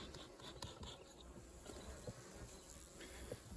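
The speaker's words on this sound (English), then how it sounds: "So look here, pretty healthy cluster of bees." Honey bees in a winter hive cluster give off a faint, close, steady buzzing hum with a few soft ticks and taps.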